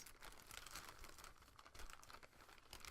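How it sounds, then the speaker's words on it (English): Paper crinkles and rustles close by in a quiet, continuous crackling stream, with no talking. "sorry for all the crinkling"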